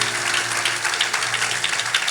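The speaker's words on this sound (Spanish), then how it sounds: "Si es para el Señor, déle el aplauso." Church congregation applause during a Spanish-language sermon, a dense continuous wash of clapping that fills the room, loud and sustained for the whole moment without speech.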